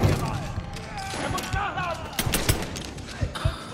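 Gunfire in the video game Mafia 3: Definitive Edition comes as a rapid series of sharp, loud shots and bursts, mixed with other game sounds and voices talking.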